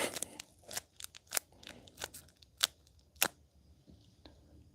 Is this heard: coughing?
no